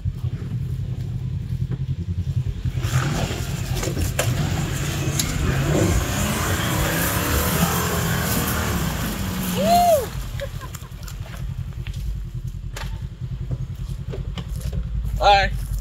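A Mercedes ML AMG SUV built for budget off-roading plows through thick mud, its engine droning and revving steadily under excited voices talking throughout, with a brief whoop near the end.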